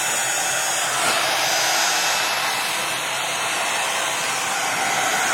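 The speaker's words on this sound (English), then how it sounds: "I'm going to heat up my heat tool." An embossing heat tool blows hot air in a steady, loud whooshing whir that runs unbroken for several seconds close to the listener, with no speech.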